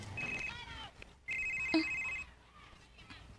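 A cellphone rings with two bursts of bright electronic ringtone separated by a short pause, loud and close with no talking.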